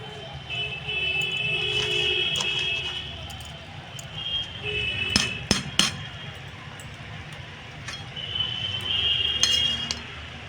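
Metal utensil clinks and scrapes against a pan while mushrooms and leafy greens are stirred together, a few sharp bright taps bunched near the middle over steady low kitchen background.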